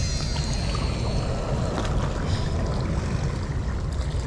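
Poorly serviced boat engine running with a steady low rumble, joined by wind and water wash, loud and close throughout with no talk.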